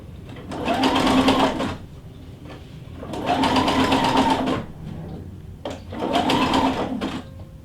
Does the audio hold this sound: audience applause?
no